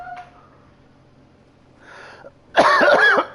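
After a quiet stretch with faint rustling, one loud, harsh cough bursts out close by near the end.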